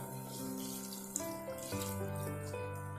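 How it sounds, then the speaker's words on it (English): Water pours steadily into a cooking pan for a few seconds, a continuous gushing stream with a brief clunk partway through. "In this I will add a little bit of water"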